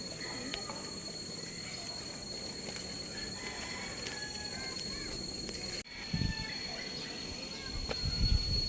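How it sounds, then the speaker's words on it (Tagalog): Steady high-pitched cricket chirring runs throughout at a moderate level in a park in General Trias, Cavite, with a few soft bumps and rustles near the end. "Tunog ng mga kuliglig."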